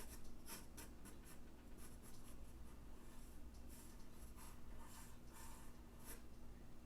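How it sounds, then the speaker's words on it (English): A pen draws a cartoon robot kitty on paper, producing close, continuous scratchy strokes in short repeated bursts with no voices. "So let's draw one on this side."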